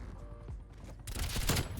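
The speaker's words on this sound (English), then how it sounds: "That's a flash grenade." A flash grenade detonating in a Call of Duty match: low rumbling game noise gives way to a sudden loud, bright burst that lingers for most of a second, with no voices.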